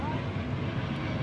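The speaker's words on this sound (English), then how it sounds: "Trying to film, but a big old plane." A big airplane passes overhead at a zoo, giving a steady broad rumbling roar with no distinct peaks.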